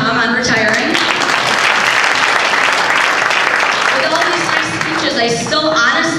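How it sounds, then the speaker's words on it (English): Loud audience applause fills a retirement roast honoring Tom, dense steady clapping with cheers and voices mixed in, sustained throughout and swelling again near the end. "let's give another round of applause for Tom on retiring"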